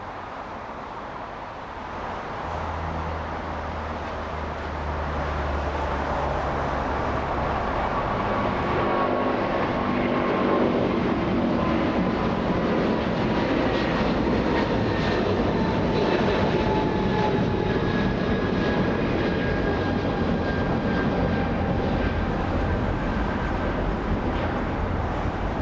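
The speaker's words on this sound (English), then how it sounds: "This one powered by Pratt & Whitney 4000 engines." A United Airlines Boeing 777 with Pratt & Whitney 4000 engines takes off from Los Angeles International Airport, its roar swelling within seconds to a loud, sustained jet thunder that holds steady, with no voices over it.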